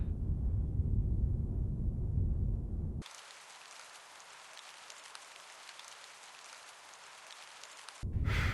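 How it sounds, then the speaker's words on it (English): Steady broadband rain hiss from a video game set in England, heavy and continuous for several seconds after a low rumbling passage, then cutting back to lower ambient sound at the end. "Why does it always rain in England?"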